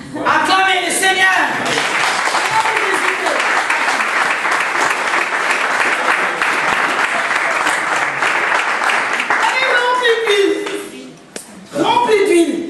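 A church congregation claps and cheers in sustained loud applause that swells for several seconds, then fades as voices return near the end.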